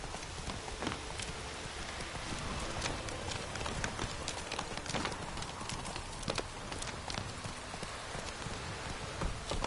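Horse hooves gallop at a quick, steady clip-clop rhythm in The Witcher 3 on PS4, close and continuous throughout, with a soft hiss like light rain underneath.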